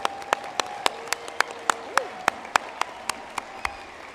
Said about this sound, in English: one more applause for you all.